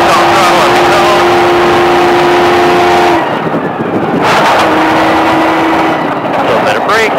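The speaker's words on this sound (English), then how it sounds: "Back on throttle on the cone." A performance car driven hard around a SpeedVegas track, its engine droning at steady pitch, cutting off briefly, then pulling back on throttle and rising again, loud and close with a voice talking over it.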